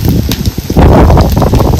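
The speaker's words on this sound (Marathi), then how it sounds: "असा एकदम फडफडीत कांदा भाजून घ्यायचा आहे आपल्याला" Onions for a country-style cucumber bhaji fry hard in a pan, a loud, dense crackling sizzle up close that pops and hisses continuously without pause.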